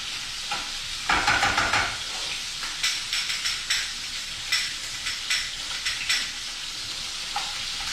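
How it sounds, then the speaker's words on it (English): Beef braciole searing in a hot pan, a loud continuous sizzle and hiss punctuated by a rhythmic series of sharp crackling spurts as the meat is moved, close up with no talking. "High heat, sear the outside, then it's going to finish off in the oven."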